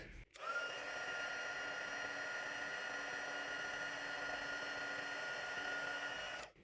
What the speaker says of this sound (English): So I'm going to grab my heat tool and just heat that up.